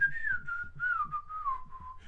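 Captain Scarlet, a parrot, whistles one long, clear, wavering tone that slides slowly downward, with soft clicks and rustles underneath, close and fairly loud.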